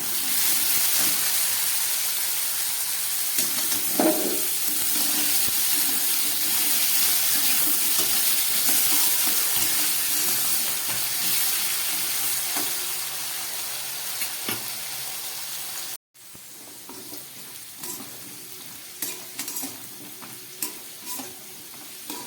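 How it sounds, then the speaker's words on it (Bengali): Potatoes frying with salt and turmeric, a loud, continuous oily sizzle with intermittent spatula scrapes and taps on the pan, dropping abruptly in level partway through before continuing with more frequent stirring clicks. "আলুর মধ্যে দিয়ে দিচ্ছি সামান্য পরিমাণ নুন আর দিয়ে দিচ্ছি একটু হলুদ দিয়ে আমি আলুটাকে খুব ভালো করে এবারে ভেজে নেব"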